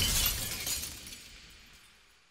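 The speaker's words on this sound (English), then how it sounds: "In our empty house, a mirror came unhooked by itself and smashed on the floor in" A glass mirror crashing down and shattering on a floor inside an empty house, a bright loud burst of breaking glass with scattered shards tinkling and fading away over a couple of seconds, no voices.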